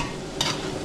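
Garlic frying in a pan gives a steady close hiss, with one brief scrape of a spatula partway through and no voices.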